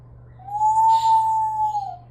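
An African grey parrot mimics an owl call, giving one long, steady, high whistled hoot close by that sounds more like a squeaky cow's moo, standing alone over faint background hum.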